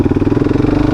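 A Suzuki DRZ 400 motorcycle fitted with an MRD Pro Comp exhaust, idling close up with a rhythmic, evenly pulsing single-cylinder thump that is loud and steady, with no voices.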